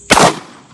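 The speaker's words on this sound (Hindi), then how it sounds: "मैंने अपने टारगेट्स के ऊपर टॉर्च की मदद से फायर किया और सारे टारगेट्स हिट किए" A single loud gunshot fired at night at targets lit by a flashlight, a sharp close blast with a short decaying tail.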